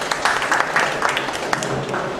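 Audience applause from a crowd at a classroom or presentation gathering, a short burst of steady clapping throughout at moderate volume.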